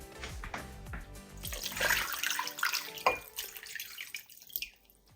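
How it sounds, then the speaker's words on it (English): Water splashes and pours into a pot of catfish pepper soup, a gurgling stream that swells then tapers off into a few drips, close by and fairly quiet. "next I'm going to be pouring in some water"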